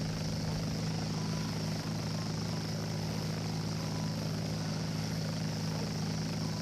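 A twin-engine Aero Commander airplane drones steadily in flight, a constant engine and propeller hum with no breaks, moderately loud and alone.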